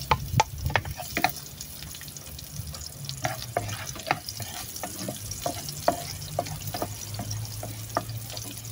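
Onion and garlic fry in a hot pan for a sautéed cabbage dish with oyster sauce, a steady low sizzle broken by sharp clicks and scrapes of stirring at close range, with no talking.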